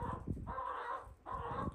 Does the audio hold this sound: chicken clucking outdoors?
yes